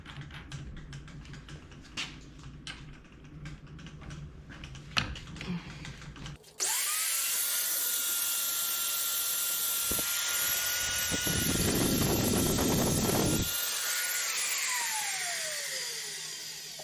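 Clicking and shuffling give way to an industrial-grade power drill with a 3/4-inch bit whirring steadily, with a harsher grinding stretch as the bit bites into a steel Toyota truck frame before winding down.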